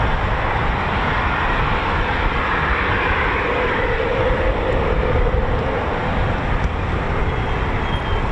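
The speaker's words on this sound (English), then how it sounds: "we've had the Spitfire 311 go out as well" Supermarine Spitfire departing at an airshow, a steady broad engine roar that holds at constant loudness throughout, with no talk.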